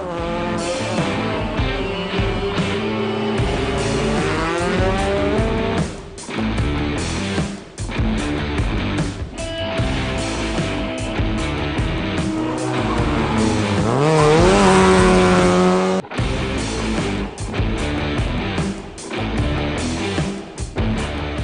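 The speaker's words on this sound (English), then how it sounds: "brother Matthew Vasey-Lyle sliding his Toyota Etios elegantly around the tight lanes" Rally cars, including a Toyota Etios sliding through tight lanes, race a night stage at the 2018 Ermelo Rally. Loud engines rise and fall in continuous revving sweeps, with tire squeal as the cars power through the turns.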